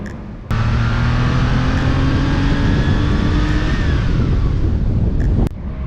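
An old-school car with no power steering driven flat out in third gear, engine roaring loud and steady as revs climb, with strong wind rush over the microphone and a sudden cut near the end.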